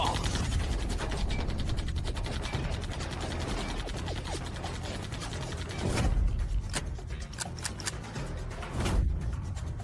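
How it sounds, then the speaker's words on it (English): Jammed guns clicking and ratcheting in an anime sound effect, a dense run of mechanical clicks and rattles followed by a few sharp separate clacks, loud and close. "Why did both guns jam at the same time?"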